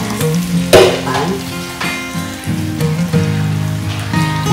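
Eggplant fries loudly in a pan close by, a dense crackling sizzle with bright spattering bursts, and a clear knock near the start as pieces are spread across the pan.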